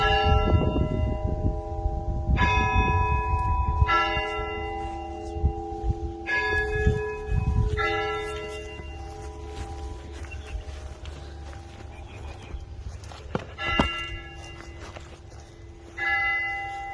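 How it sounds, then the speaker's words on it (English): Church bells ring out in a series of resonant strikes, tones lingering and overlapping, with footsteps and low rustling nearby in a graveyard. "The church bells. They're gorgeous."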